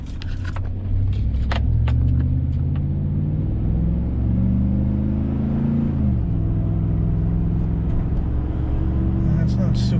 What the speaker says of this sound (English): Third gear shift's a lot better. There's fourth. And there's lockup.